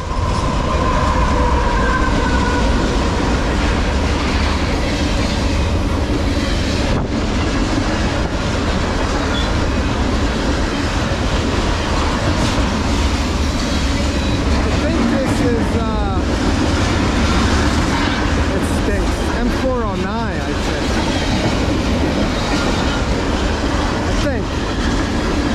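A CSX manifest freight train rolls past westbound, a loud, steady rumble of railcars with clattering wheels and brief metallic squeals that holds at a constant level throughout.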